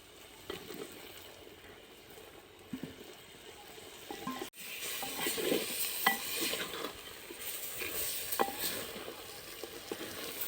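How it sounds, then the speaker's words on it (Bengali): Fried potatoes and chicken are stirred and sautéed in an earthen pot. A ladle scrapes and knocks against the pot in irregular strokes over a quiet sizzle, with a brief dropout midway. "আলু দিয়ে ভালো করে কষিয়ে নেব।"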